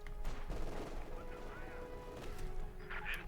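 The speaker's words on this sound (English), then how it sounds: "Machine gun, they need to be careful." Machine gun fire in Company of Heroes 2 rattles in short bursts amid scattered battle crashes and impacts, with a commentator talking over the din throughout.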